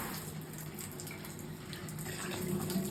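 Water runs from a faucet with very low pressure, a soft, steady hiss and trickle that stays faint and constant with a slight low hum beneath it.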